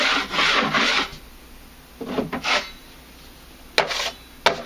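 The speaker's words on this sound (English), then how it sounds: "just kind of gently scrape off any high spots" A 12-inch drywall knife scrapes high spots off repaired drywall in several rasping strokes, a long pass followed by shorter bursts and two sharp scrapes near the end, close and loud with no talking.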